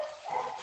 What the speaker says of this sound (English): Somebody's dog is in the background.